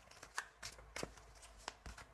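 Tarot cards are shuffled quietly and up close in a string of soft, crisp riffling bursts, about five in just over two seconds.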